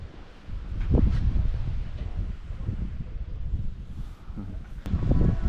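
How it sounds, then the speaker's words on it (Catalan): Cold wind blowing outdoors near Ait Ben Haddou in Morocco, a steady low rumble buffeting the microphone with gusts swelling and easing over several seconds. "Quin fred i quin vent."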